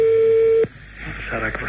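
A steady telephone tone sounds loudly for about half a second, then cuts off and gives way to a brief, fainter electronic line noise after the call is hung up.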